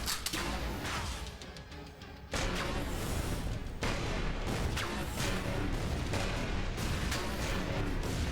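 Rapid bursts of gunfire at a chimera in ELEX, loud sharp reports repeating in clusters with brief pauses, heavy and close, with no talking.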